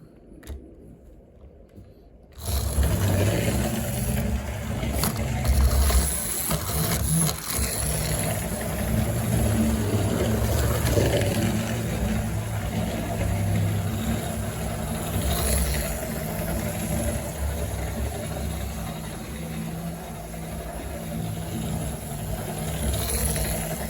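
Clockwork HO/OO scale model trains, a Lima Jouef engine on an outer track and a Miniville on an inner one, run with a steady close whirring and rattling that starts abruptly after a short quiet moment and continues without a break.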